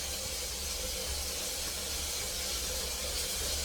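Loud, continuous hiss of steam escaping from a boiler valve on the 1922 Polson #70 steam locomotive, broadband and unbroken throughout, with a low rumble underneath.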